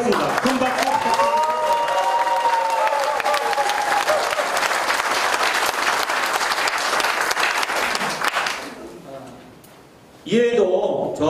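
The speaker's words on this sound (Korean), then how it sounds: "큰 박수" Sustained loud applause from an audience at the completion ceremony of a livestock cooperative's head office in Icheon, filling the room for about nine seconds, then fading out before a brief final burst.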